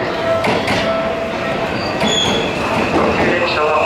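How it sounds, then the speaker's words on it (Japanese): A Seibu Ikebukuro Line train rumbles steadily past the platform at Ikebukuro Station, Tokyo, loud and close, with faint squeals and a Japanese station announcement over the noise. "電車が通過します。"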